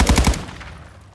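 Rapid bursts of automatic gunfire from a video-game firefight on Ashika Island, with about four loud close shots in quick rhythm during the first half second, then a fading reverberant tail with no talk.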